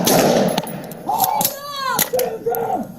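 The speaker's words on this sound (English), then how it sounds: "Officers, shots fired. Shots fired." Gunshots ring out during an active shooter incident at a casino, several sharp cracks spaced irregularly across a few seconds, mixed with shouting voices and commotion nearby.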